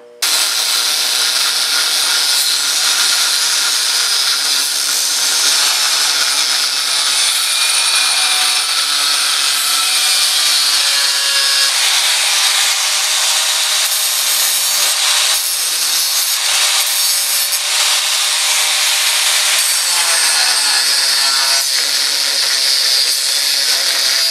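Continuous loud, harsh grinding of steel being cut into a knife blank, a steady abrasive whine that barely lets up for the whole stretch.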